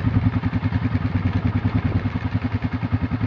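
An ATV in four-wheel drive and high gear pushes hard, its engine producing a loud, rapid, steady pulsing thrum with rattly clatter, close up throughout.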